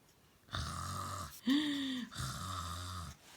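A storyteller's voice imitates snoring for a sleeping girl in the Three Bears tale, giving three long, drawn-out rasping snores, close and fairly loud, with a groaning middle breath.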